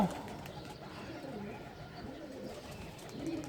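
Soft, low coos from pet pigeons near a new trapping net and cage rolling repeatedly in the background, faint and continuous, with a few bird rustles and distant ambient noise.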